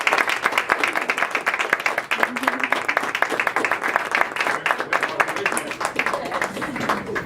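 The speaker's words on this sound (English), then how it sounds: "if we could just all give them a round of applause" Audience applause at an office party for a wellness chiropractic practice, a dense crowd clapping steadily and loudly for several seconds, with voices mixed into the ovation.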